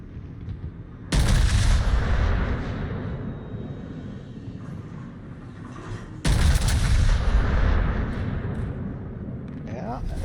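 Naval guns fire in a World of Warships battle as two heavy booming salvos, the second landing about five seconds after the first, each with a long rumbling tail, while people talk over them.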